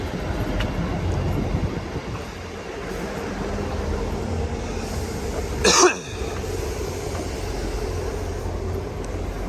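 A steady low rumble of a Wigan–Leeds passenger train idling nearby at a station, with someone coughing sharply once partway through.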